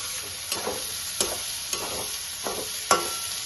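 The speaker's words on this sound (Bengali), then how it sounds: "আরেকটু নাড়াচাড়া করবো" Red lentils dry-frying in a pan crackle softly under a steady faint sizzle, with a spatula scraping and stirring in a handful of light, evenly spaced strokes.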